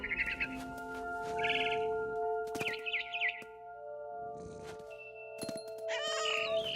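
Repeated cat meows in the video game What Remains of Edith Finch over a steady electronic hum, with bird-like chirps mixed in; no talking.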